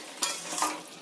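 Chicken curry being stirred and sautéed in a pan, with two soft scraping strokes over a low sizzle, fairly quiet and close, no talking.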